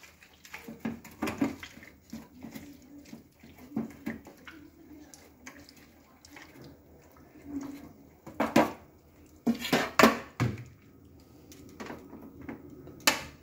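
A spiced mixture with chopped coriander leaves is kneaded and mixed by hand in a bowl, giving irregular soft squelches and knocks that come in bursts, louder near the end.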